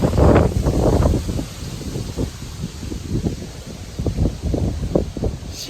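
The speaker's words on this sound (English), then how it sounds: "The wind is still blowing." Strong hurricane wind roaring and gusting through trees, loud and continuous with rustling bursts and microphone buffeting, heard alone without talk.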